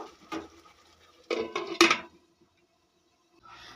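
Metal cookware clanks as a lid goes onto a pan of pointed gourd cooking over a medium gas flame: one clatter, then a burst of several rattling knocks, followed by near silence.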